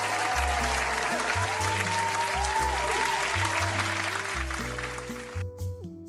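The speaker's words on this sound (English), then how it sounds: "Round of applause" Applause from a comedy audience, a steady crackle of many hands that runs under a droning, shifting background tone before thinning out near the end.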